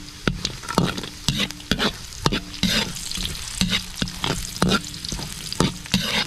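Garlic sautés in hot cooking oil in a pan as a spatula stirs it. Sharp, rhythmic scrapes repeat steadily over a continuous close, crackling sizzle.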